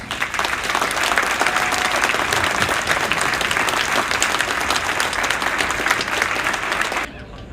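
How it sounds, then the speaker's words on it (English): At a high school band concert, the audience gives a loud round of clapping that holds steady for about seven seconds, then cuts off abruptly, leaving quiet room tone. "So give them one more round of applause."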